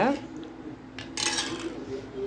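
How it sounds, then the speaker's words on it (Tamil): A spoon stirs salt into pani puri water in a metal vessel, giving close scraping clinks and swishes, with a brief louder burst of metallic rattling midway. "உப்பு போட்டு நல்லா கலக்கிக்கோங்க."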